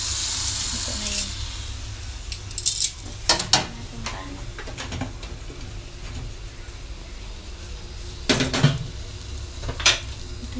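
Cooked rice being stirred and mixed in a pan, with irregular utensil clinks and scrapes against the metal over a faint background sizzle.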